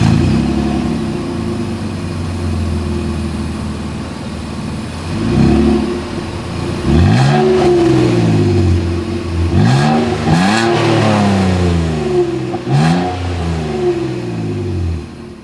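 A 2024 Nissan Frontier SV engine heard through its exhaust, idling at first with a steady low rumble, then several sharp revs that climb and fall back, loud and close.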